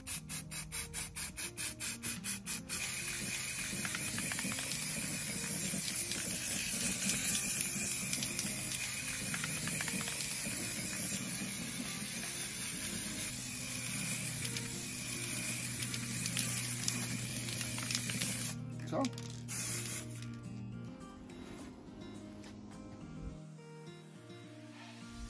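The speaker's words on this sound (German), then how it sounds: "Nun sprühen wir das Ganze in Schwarz." A long continuous hiss of black spray paint from an aerosol can onto a wheel rim from a Fiat Ducato van, close and steady with short bursts at the start, before tapering into quieter rattling.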